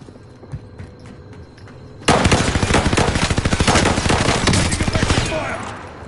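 Automatic gunfire in the video game Warzone, a sudden loud burst of rapid repeated shots that keeps going for several seconds after a quieter lead-in.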